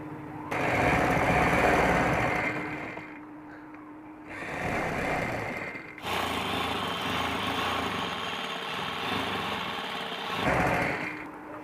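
Sewing machine stitching an umbrella-cut baby frock runs in a few separate bursts of fast whirring, with short pauses between runs; a long steady stretch sits in the middle.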